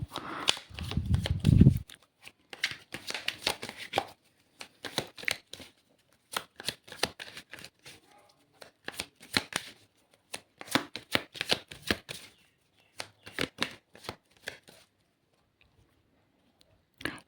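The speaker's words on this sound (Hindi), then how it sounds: "let me clear these cards a bit more." Tarot cards are shuffled in repeated short, crisp riffling and flicking bursts separated by brief pauses, close and dry, with a louder thump at the start and no talking.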